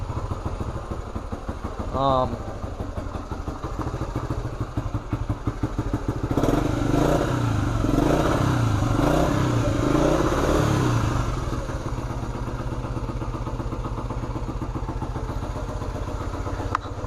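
A 1975 Honda CT90 motorcycle engine runs on choke after a cold start, a steady close putter with a louder stretch midway. A person talks over it.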